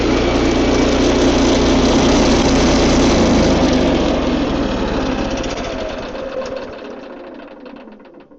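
A loud gas engine on a Stout Designs TrailBlazer-HD runs at a steady, dense roar close by, then winds down and fades out over the last few seconds as it is cut off.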